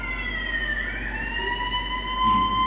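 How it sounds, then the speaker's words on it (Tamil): An ambulance siren wails in a continuous rising and falling tone, loud and steady throughout, played as part of a road-safety drama staged at a competition in Tuticorin. "அந்த டைம்ல 108ல ஆம்புலன்ஸ் எடுத்துக்கொண்டு வண்டி போயிட்டு இருக்கு."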